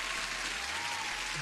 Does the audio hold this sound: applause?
yes